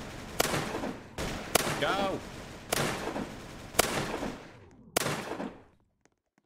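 Gunshots from a weapon in the Roblox game Zombie Rush, five sharp loud bursts spaced about a second apart, each with a short decaying tail, with a voice briefly calling out between them.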